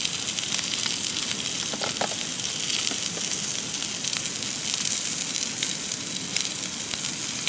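Eye fillet steak frying in a pan, giving a steady, dense sizzle and hiss that holds evenly throughout, close up, with a few faint crackles and no talking.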